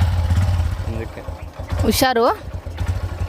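Motorcycle engine revving as the bike pulls away, a brief rising rev under nearby talk against a low idle.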